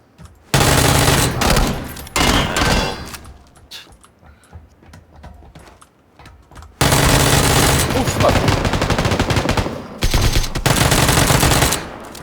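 Automatic weapon fire in a Korean multiplayer shooter game, loud sustained bursts of machine-gun fire in two long stretches separated by a quieter gap with scattered single shots.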